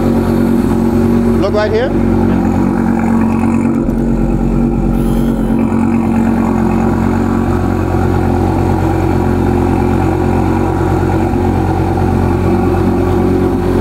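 Loud engine of a modified Volkswagen Beetle on 22-inch wheels, a steady low rumble running throughout with a brief rise in revs near the start, heard close and under ongoing talk.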